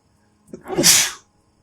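A single sharp sneeze with a short intake before it, loud and close, then silence.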